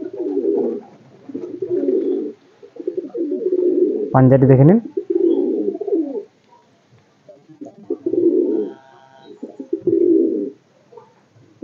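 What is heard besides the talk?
Madrasi pigeon cooing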